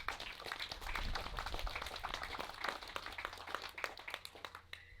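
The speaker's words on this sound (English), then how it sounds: "let's give everybody a big round of applause" A modest audience at an agricultural field day talk on corn disease claps in a quiet, outdoor-sounding burst of individual hand claps lasting a few seconds.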